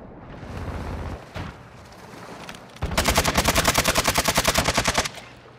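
Video game gunfire: a scattered shot or two early on, then a loud, fast automatic burst of evenly spaced rounds lasting about two seconds, close and dominant before trailing off.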